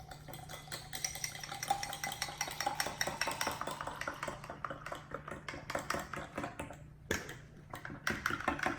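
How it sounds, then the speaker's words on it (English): A fork whisks coconut milk quickly in a bowl, producing rapid, rhythmic clicking taps against the sides, a brief pause near the end before the whisking resumes; no one speaks. "I'm gonna whisk it really well with the fork."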